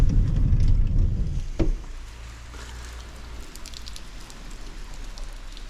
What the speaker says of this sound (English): So the weather out here is absolute raining.